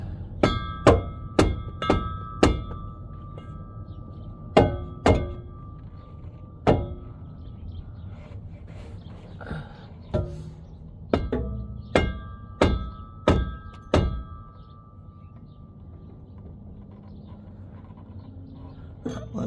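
Hammer blows with a rubber mallet on the center support bearing of a 1997 Toyota Tacoma 3.4 RWD, coming in quick bursts of sharp thuds with short pauses between them. The strikes are close and loud, and no one speaks.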